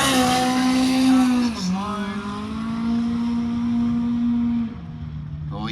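A Holden Gemini drag car with a 1.8 litre engine screams loud and close down the strip at the Winter Nationals in Brisbane, its steady high engine note dipping briefly twice as it shifts gears.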